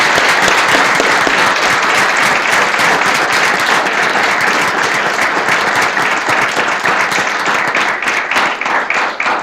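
An audience at a board of education meeting gives a loud, dense round of applause with many overlapping hand claps, sustained evenly and then thinning slightly at the end.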